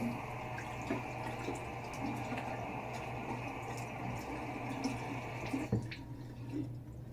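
Tap water running steadily into a sink while a straight razor is rinsed, a faint continuous stream with small drips and splashes, then a brief clink near the end.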